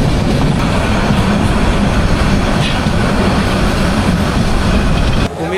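Udayan Express train rolling into Comilla station: a loud, steady rumble with rhythmic clickety-clack of wheels on rails, heard from inside the carriage and cutting off abruptly at the end.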